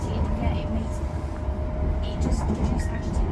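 A train rolling along tracks with a steady low rumble and rattling, people talking over the noise.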